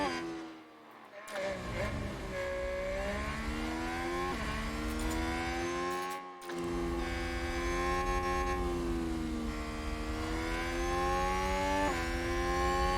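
An F1 race car with a punctured tire in the F1 Manager 2022 game holds a continuous rising and falling engine whine with gear-shift dips, briefly cutting out twice, while voices talk over it.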